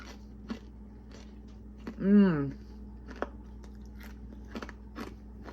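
A single crisp bite into a crunchy homemade sourdough cracker, followed by faint chewing crunches in an otherwise quiet room; a brief voiced sound accompanies the bite.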